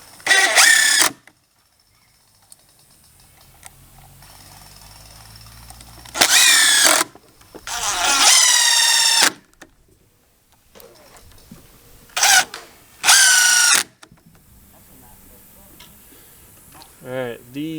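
A power drill drives Robertson screws into a deck railing in several short bursts of whirring, each lasting one to three seconds, separated by quiet gaps with faint handling noises, close and fairly loud.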